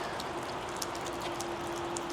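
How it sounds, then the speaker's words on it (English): Steady patter of rain falling on a surface, with scattered brighter drips against a constant hiss and a faint steady hum underneath. "Well, it's raining"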